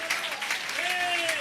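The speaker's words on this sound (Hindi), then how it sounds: "अपने लिए तालियां बजाएं।" Applause from a congregation at a live New Year sermon, a dense burst of clapping lasting about a second and a half, with a voice speaking over it.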